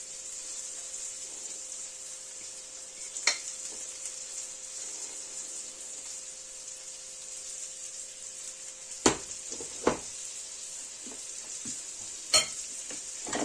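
Flour-coated Atlantic cod frying in a pan, a steady close sizzle throughout, punctuated by a few sharp clicks and scrapes from handling, with no talking.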